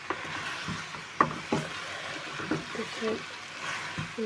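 Onion frying together with tomato and potato in hot oil gives a soft, steady sizzle with occasional stirring clicks and scrapes, close by and fairly quiet.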